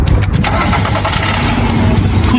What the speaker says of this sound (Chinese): 他的车只要一打着火，发动机就会特别抖